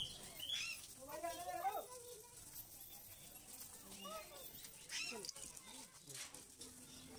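Birds, parrots among them, call inside a walk-in aviary at Chhatbir Zoo in Chandigarh, giving faint, scattered chirps and warbling cries that sound distant against a quiet background.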